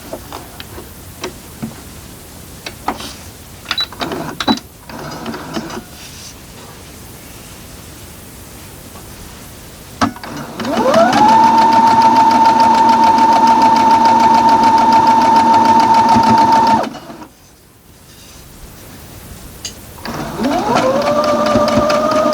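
A sewing machine stitches Spooky Box Boo quilt pieces from the Fat Quarter Shop pattern, with a loud steady motor whine running for about six seconds, then stopping and starting again after handling noises.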